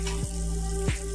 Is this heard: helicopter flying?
no